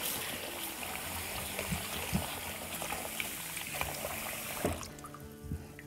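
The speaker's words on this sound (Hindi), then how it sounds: "फ्रेश पानी से एक मरतबा और धो लेंगे।" Lentils are washed with fresh water while cooking street-style haleem, giving a continuous sloshing, trickling water sound with scattered knocks and clinks from the vessel. The sound is close and fairly quiet, and it thins out near the end.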